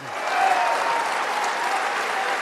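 An audience gives Australian Christian Lobby leader Martyn Iles a standing ovation, loud, dense applause that swells quickly and holds steady, close and filling the room.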